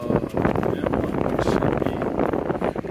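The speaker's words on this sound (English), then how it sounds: "It's a pretty windy day up here again" Gusty wind high up on a building buffets the microphone with a continuous rumbling roar that rises and falls.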